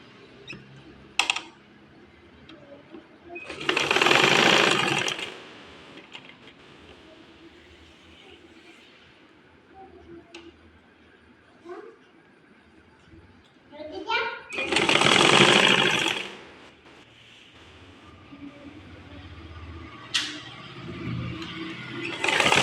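Two short bursts of a tailor's sewing machine stitching fabric, each a loud, fast buzzing run of about a second and a half, with someone talking between and around them.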